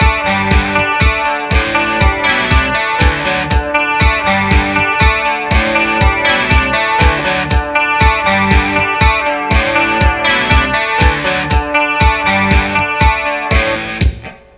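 Clean electric guitar lead played with chorus and fast delay over a looped rhythm guitar part. The chopped strumming is steady, loud and continuous, then cuts off at the end.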